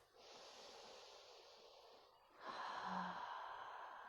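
Slow, audible breaths with a soft hiss, drawn in through the nose and let out through the mouth during a guided breathwork session, each lasting about two seconds, close and quiet with no talking.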